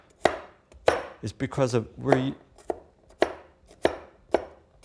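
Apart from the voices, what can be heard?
cleaver chopping beef on a board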